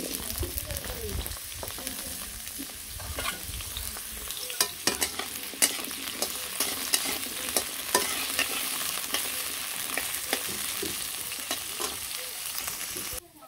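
Potatoes frying in a pan, a constant soft sizzle broken by frequent scraping and clattering stirs of a spatula, close by and fairly busy throughout.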